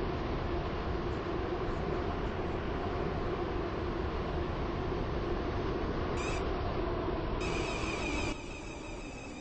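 A steady, even rumble of a train running on rails in the video game Roblox Stepford County Railway continues throughout, with a faint beep near the end before the noise drops slightly.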